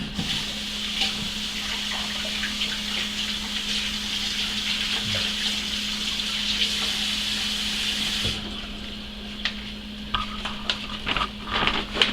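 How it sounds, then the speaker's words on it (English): Pepper seeds being rinsed off under a running kitchen tap, a steady broad rush of water for about eight seconds before it cuts off, leaving scattered faint clinks and handling noises. "And then I just rinse the seeds off."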